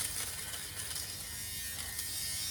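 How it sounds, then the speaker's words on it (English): A handheld sweater shaver running over pilled shorts fabric, giving a loud, steady, close electric buzz with a high whine that holds without a break, alone. "So I'm just gonna take my sweater shaver."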